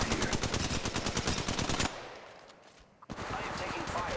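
Automatic weapons fire in a video game firefight: fast, loud rattling bursts, a short lull, then more sustained shooting.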